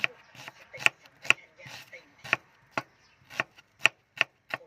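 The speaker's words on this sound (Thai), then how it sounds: "แค่ได้ยินเสียงหั่นก็โอเคแล้วค่ะ" A knife chops shallots on a board in sharp, separate strikes, about ten over a few seconds with uneven rhythm, close and fairly loud.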